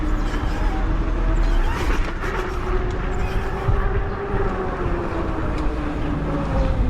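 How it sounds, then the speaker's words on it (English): A steady grinding, rumbling mechanical drone from failing e-bike pedal bearings, with a faint whining tone running through it, continuous and fairly loud, with occasional small knocks. "That's the sound of pedal bearings failing."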